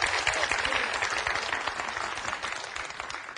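A studio audience at a Korean talk show claps steadily in a dense, sustained round of applause with some voices mixed in, slowly easing off toward the end.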